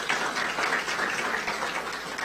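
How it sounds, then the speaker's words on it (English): An audience at a county budget announcement gives sustained, even clapping from many hands, a continuous rattling wash that neither builds nor fades, with no speech over it. "We should all applaud him in his absence"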